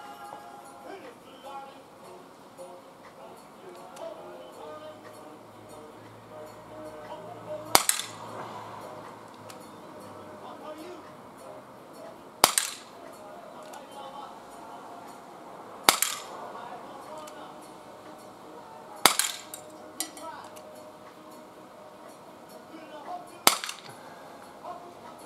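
A Bersa BP9CC blowback BB pistol fired at a target 12.5 metres away outdoors, five sharp, snappy cracks spaced several seconds apart over a low background, with faint speech in between.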